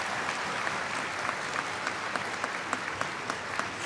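A church congregation claps steadily, a dense wash of many hands at moderate distance, continuous and even throughout with scattered sharper claps standing out.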